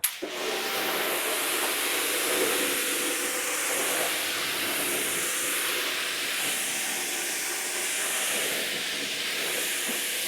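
A pressure washer sends a loud, steady hissing spray onto a car as it is rinsed during washing. The spray goes on without pause and is up close, with no talk.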